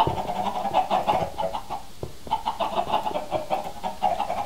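Chickens in the Minecraft video game cluck repeatedly in a steady, busy chatter at moderate loudness, alone with no talk over them.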